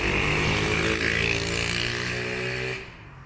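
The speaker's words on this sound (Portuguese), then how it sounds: "Uma moto barulhenta como sempre" A loud, noisy motorcycle engine roars steadily close by on a city street in central Sorocaba, Brazil, with a harmonic drone that fades away near the end as it passes. No one speaks.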